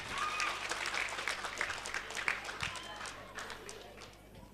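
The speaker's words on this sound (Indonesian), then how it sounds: "Sekali lagi boleh minta tepuk tangan untuk juara ketiga kita," An audience at a quiz competition applauds third-place winners; the clapping is steady but fairly faint and distant, with crowd murmur and some talk mixed in.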